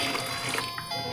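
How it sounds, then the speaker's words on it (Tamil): Second rice-washing water is poured into a curry pan, giving a short bubbling trickle of liquid that lasts about a second. "இப்போ அரிசி கழுவுன 2வது தண்ணிங்க"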